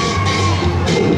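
Outdoor crowd at a Canada Day lumberjack show at an amusement park gives a brief, loud practice cheer, a sustained wash of shouting and whooping voices close around.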